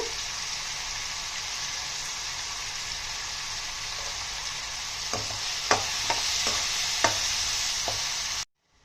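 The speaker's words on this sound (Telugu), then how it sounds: "చింతపండు, సరిపడేంత ఉప్పు వేసుకొని టమాటా ముక్కల్ని బాగా మగ్గనివ్వాలండి." Small tomato pieces simmering with tamarind and salt for mango tomato pachadi, a continuous soft sizzle with a few sharp stirring clinks near the end before the sound cuts off.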